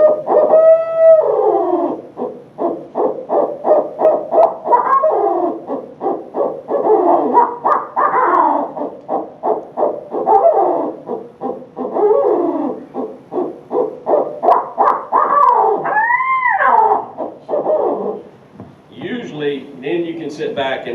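A turkey hunter imitates a barred owl's laughing call, a long series of rhythmic hooting and cackling notes rising and falling, loud and close.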